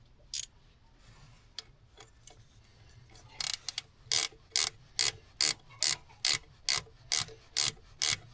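A ratchet tightens the thermostat housing on a Kubota RTV X900 utility vehicle. After a few scattered clicks, it settles into a steady run of about ten crisp, evenly spaced ratcheting bursts, close and alone with no talk.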